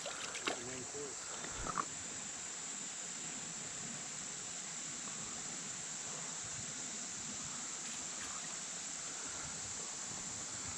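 A small waterfall on a shallow creek, flowing in water a few inches deep, gives a steady, broad rush of falling water that holds evenly throughout, with a few brief knocks near the start.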